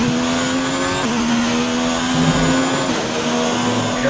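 A Honda Formula 1 car engine in a racing video game, a sustained high-pitched whine holding a steady tone with slight pitch shifts, loud and unbroken, without commentary.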